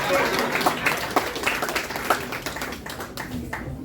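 Comedy club audience applauding a performer, a dense, steady patter of clapping filling the room with a few louder claps standing out, some voices mixed in beneath.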